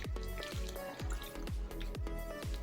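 Chopped banana flower being washed in water in a bowl, with repeated rhythmic splashes and drips as it is stirred and rinsed up close.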